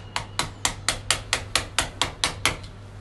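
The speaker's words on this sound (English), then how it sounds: "we're going to put a screwdriver and just give it a little tap with a hammer" Eleven sharp metallic taps ring out in an even rhythm, a hammer striking a screwdriver against a retaining ring on a shower valve, close up with a faint steady hum underneath.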